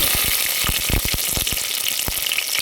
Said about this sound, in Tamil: சோம்பு பட்டை கல்பாச்சி இந்த இதெல்லாம் போட்டு தாளிப்போம்